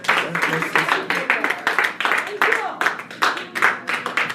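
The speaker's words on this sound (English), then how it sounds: "Give him a round of applause." A church congregation claps together during a worship service, with steady rhythmic hand claps running throughout, close and fairly loud, and voices mixed in among them.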